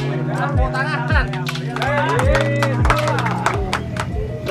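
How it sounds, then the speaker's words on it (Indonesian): Small outdoor crowd at a songbird contest for a Murai Batu clapping briefly, steady rhythmic hand claps over chatter, with someone talking close by. "Tepuk tangan."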